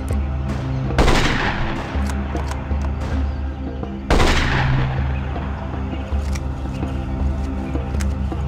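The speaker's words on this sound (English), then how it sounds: "Holding fire. Returning fire!" Gunfire in the jungle warfare shooter Marine Sharpshooter II on PC: two heavy, close bursts of automatic fire crack out about three seconds apart, with scattered single shots in between and a rumbling low background throughout.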